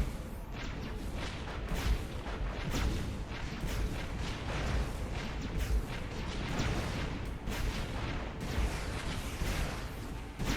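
Ships in the space strategy game AI War fire nonstop at enemies, a dense, loud barrage of overlapping booms and bursts rolling steadily with no pause.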